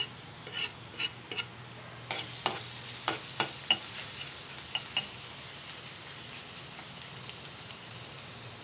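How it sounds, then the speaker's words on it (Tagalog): Garlic sizzling in hot cooking oil, a steady bright crackle punctuated by a series of sharp stirring clacks and scrapes of a utensil against the pan, close and alone without voices. "Mainit na po ang mantika. Ilagay ko na po ang bawang."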